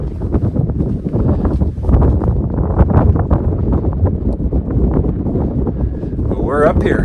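Steady wind gusts on a snowy mountain summit at sunrise buffet the microphone with a constant low roar throughout.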